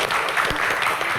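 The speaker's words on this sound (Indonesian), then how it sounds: "Tepuk tangan untuk Vicky Prasetyo" Studio audience applause greeting guest Vicky Prasetyo on a televised Q&A show, a dense, steady wash of clapping at close range with no talk over it.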